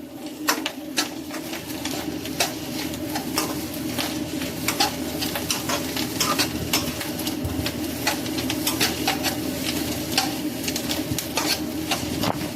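Vegetables stir-frying in a pan give a steady sizzle with frequent sharp scrapes and clicks of the utensil against the pan, close and without talk.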